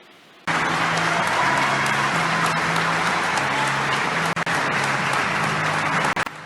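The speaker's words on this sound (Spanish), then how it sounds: "En medio de un emotivo momento, con aplausos de sus compañeros del Hospital San Rafael en Alajuela, Magali salió del salón de cuidados intensiv" Sustained applause from hospital staff at Hospital San Rafael in Alajuela, Costa Rica, steady dense clapping that starts abruptly and continues throughout, with a low tonal hum underneath.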